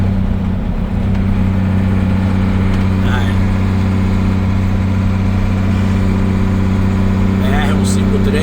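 A truck engine idles at a roadside truck stop on the BR-153 highway in Brazil, a loud steady low rumble with a constant hum, while someone talks over it.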